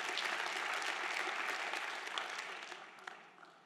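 A church congregation breaks into dense, sustained applause, loud at first and then gradually thinning and fading toward the end.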